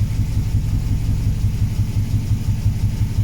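A high-compression Nissan Micra K10 with a CG13 engine and individual throttle bodies idles with a steady, close, low rumble that pulses slightly throughout, with no voices.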